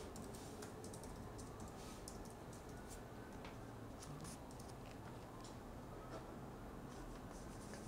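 Someone types a search on a computer keyboard, producing quick, faint clicking keystrokes in uneven bursts over a low steady background hiss.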